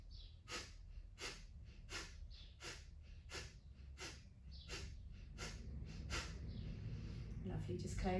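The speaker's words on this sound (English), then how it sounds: "Breathing out completely through the mouth" Deep yoga breathing during a core-focused flow, with a steady series of rhythmic breath pulses, roughly ten in a row, close and fairly loud over a low background hum.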